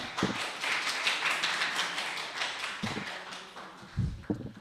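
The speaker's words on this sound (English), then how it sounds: "a huge round of applause for Sikandar, guys" An open-mic audience at a literary event applauds a speaker taking the stage, with steady, dense clapping throughout and a few sharper claps standing out near the end.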